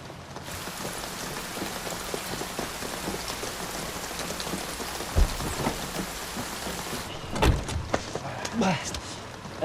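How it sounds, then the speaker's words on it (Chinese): Heavy rain pours down in a continuous dense hiss, close and loud, then eases after about seven seconds into scattered drops and splashes, with a few low knocks. "这雨是越来越大了"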